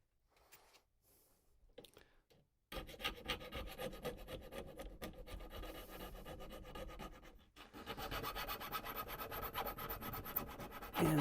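A file scrapes across the edges of a Savage 87 .22 rifle extractor in a steady rasping rub that is close and continuous. It starts after a few quiet taps and grows louder toward the end.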